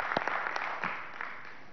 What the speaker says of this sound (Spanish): Desde aquí le damos un aplauso amoroso a esas mujeres